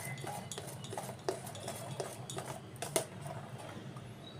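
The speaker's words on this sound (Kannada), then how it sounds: "ಇದನ್ನು ನೀಟಾಗಿ ಮಿಕ್ಸ್ ಮಾಡ್ಕೊಂಬಿಡೋಣ" Idli batter being stirred by hand in a bowl for udid dal idli, soft repeated scraping and stirring with a couple of light clinks against the bowl, close and fairly quiet, no talking.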